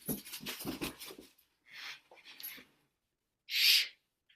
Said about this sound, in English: my dog just came running in, like, shaking her toy with every fiber of her head